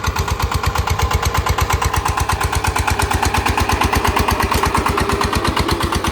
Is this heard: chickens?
no